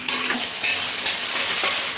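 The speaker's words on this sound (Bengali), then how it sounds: "পেঁয়াজটা দিয়ে দিয়েছি, এবারে পেঁয়াজটা একটু হালকা ভাজা হলে তারপরে বাটাটা দিয়ে দেবো" Sliced onions fry in hot oil in a pan for a chicken dish, a steady close sizzle broken by a few louder scraping stirs of a spoon against the metal.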